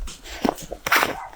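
Bernese mountain dog puppies, three to four months old, let out two short, close barks with a brief gap between them, and no other sound is heard.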